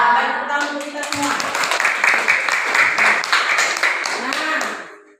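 An audience in a classroom coaching session claps together in a lively, continuous burst of applause lasting about five seconds before quickly dying away.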